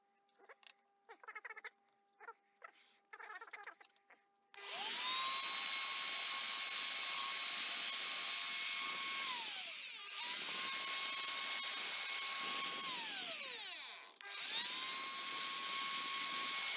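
A power tool whines loudly up close as it cuts a circle out of a board for a fireplace build, in long sustained passes with brief dips between them, after some quiet handling noises.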